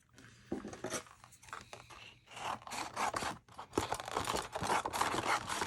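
Scissors cutting mirror card for an advent calendar box: scratchy, uneven snipping and rubbing strokes, close and moderately loud, with short pauses between cuts.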